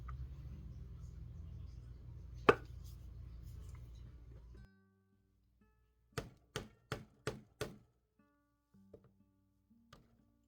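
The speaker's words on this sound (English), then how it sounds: "So I'm using a 5/32 inch hole punch, and I'm just going to come in here and I'm going to do a little test spot" A 5/32 inch hole punch strikes leather for earrings, giving five quick, crisp thunks in steady succession in a quiet room, followed by a few faint taps.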